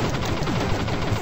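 Rapid crackling shots from a fire gun in the retro-style game Abobo's Big Adventure, a dense, fast stream of chiptune-like bursts lasting just over a second.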